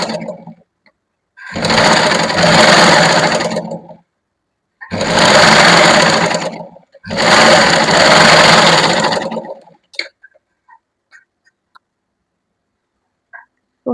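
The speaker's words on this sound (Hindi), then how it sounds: "दूसरी बाजू की भी इसी तरीके से स्टिचिंग कर लेनी है।" Sewing machine stitching the sleeve of a lined kurti, running in three loud sustained bursts of a few seconds each with short pauses between, then going quiet apart from faint small clicks.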